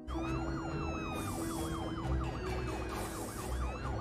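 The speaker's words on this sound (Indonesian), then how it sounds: "Di sisi mobil terdengar suara sirine motor polisi" A police motorcycle siren in the 1995 film Jumanji wails in a fast, steady up-and-down pattern, moderately loud, over traffic and engine rumble.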